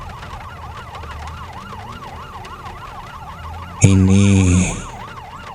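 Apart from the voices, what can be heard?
ambulance siren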